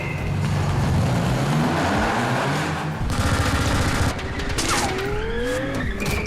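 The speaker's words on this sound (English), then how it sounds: "he's being shot at by a machine gun and shot at by these grenade launchers" Machine gun fire rattles at a car during a Fast & Furious 7 stunt, with rapid bursts mixed into loud, close engine roar and tire skids, and no talk.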